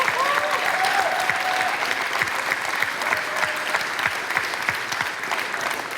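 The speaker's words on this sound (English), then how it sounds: "Can we give them a huge round of applause?" Audience at a youth startup expo giving a big round of applause, a dense, sustained wash of clapping from a large crowd, steady and fairly loud with no break.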